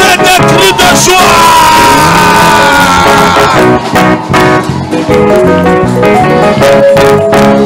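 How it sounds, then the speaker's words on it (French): Loud, continuous music fills a praise and worship church service, and voices in the congregation appear to shout and cry out over it, though the shouts are hard to pick out from the dense music. "Est-ce qu'on peut pousser des cris de joie?"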